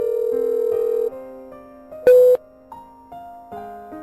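A telephone call's ringing tone: steady electronic tones shifting in pitch, with a brief louder burst in the middle and no voices.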